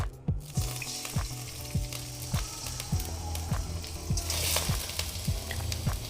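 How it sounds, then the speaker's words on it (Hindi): Chicken fries in oil for green chicken karahi, a dense close sizzle with a regular series of sharp low knocks from stirring or tossing in the pan. "ऐड करेंगे ऑयल, ऑयल के बाद डालेंगे चिकन"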